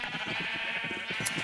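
Sheep in the video game Minecraft bleat in short, rapid wavering calls, fairly close and alone over a steady background hum.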